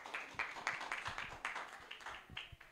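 A church congregation claps at a worship service, a quiet, uneven run of individual claps with distinct sharp hits, fairly distant and faint, with a few voices in the background.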